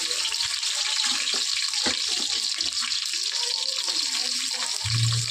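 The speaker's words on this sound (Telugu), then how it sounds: "ఇప్పుడు ఆయిల్ మరుగుతుంది కాబట్టి ఉల్లిపాయలు పచ్చిమిర్చి వేద్దాం." Onions and green chillies frying in hot oil for a country chicken gravy give a steady, broad sizzling hiss that runs continuously at moderate level, with faint kitchen clatter and a low hum near the end.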